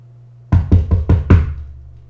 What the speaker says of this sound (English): She knocks.